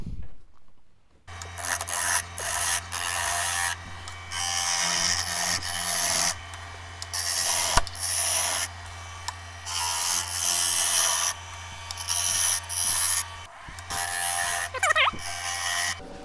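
A tall spruce goblet is trued up on a wood lathe, with a gouge cutting in repeated rasping bursts over a steady spinning hum, each cut stopping and restarting.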